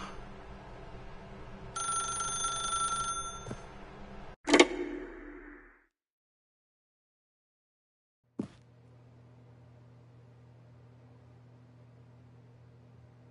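A telephone rings inside The Stanley Parable: Ultra Deluxe, a bright electronic ring that sounds for a couple of seconds, then a sharp click and a burst of noise, followed by near silence, another click and a low steady hum.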